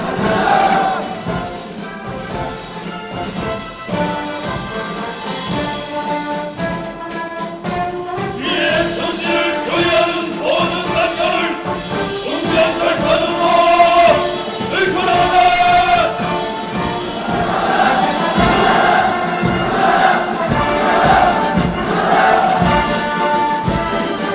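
Huge crowd of demonstrators at a mass rally in Pyongyang's square chants revolutionary slogans in unison, a loud, rhythmic roar of massed voices rising and falling in repeated waves.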